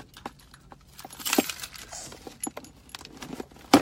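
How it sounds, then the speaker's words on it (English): Keys jangling close by in a few short metallic clinking bursts, ending in a sharper rattle. "Using my keys here."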